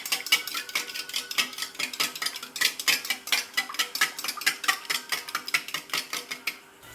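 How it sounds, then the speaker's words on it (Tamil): A metal spoon scrapes and clinks steadily against a pan while chili powder is stirred into softened tomato and onion, a brisk, regular rhythm of close, bright strokes with no voices. "இப்போ நம்ம இது எல்லாத்தையுமே வந்து கிண்டி விட்டுக்கலாம். இப்போ நல்லா கலக்கி விட்டுக்கலாம்."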